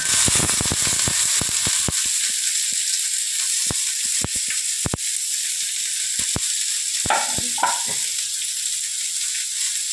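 Curry leaves and onion hit hot oil in a pan with a loud, steady sizzle, sharp crackles and pops scattered throughout, close and continuous with no talking.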